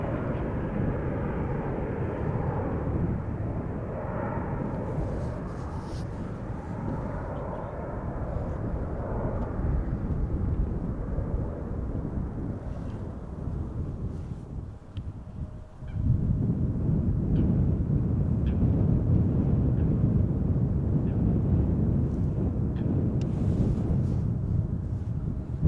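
DHL Airbus A300-600 moving at Schiphol, a steady low engine rumble that dips midway and then comes back louder and nearer, with honking goose-like calls and wind buffeting mixed in.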